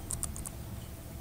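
A few quick keystrokes on a computer keyboard, about four soft clicks in the first half second, followed by a quiet room.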